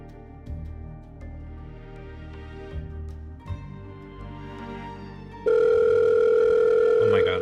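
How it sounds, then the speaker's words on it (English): Telephone in the video game Hercule Poirot: Murder on the Orient Express, with game music and tones at first, then a loud sustained electronic ring tone cutting in near the end. "Oh my god, again with the ringing."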